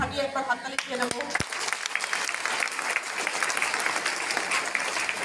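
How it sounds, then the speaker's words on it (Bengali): A room full of people at a lifestyle marketing meeting bursts into loud, sustained applause, with a few sharp individual claps near the start before the clapping settles into a dense, even roar. "মিস্টার আফার আফসারির জন্য ফাটিয়ে একবার হাততালি দিয়ে নেব"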